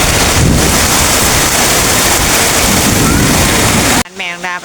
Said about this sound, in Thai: ทั้งฝนทั้งลมพี่น้องเลย